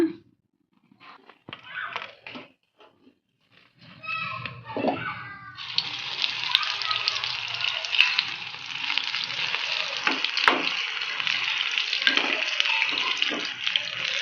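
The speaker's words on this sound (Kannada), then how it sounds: "ಇನ್ನೊಂದ್ಸಲ ಎಣ್ಣೆಯಲ್ಲಿ ಕರಿಯೋಣ" Cut mirchi chillies hit hot oil for deep-frying, a loud steady sizzle rising abruptly and holding for several seconds after a stretch of quiet speech and kitchen clatter.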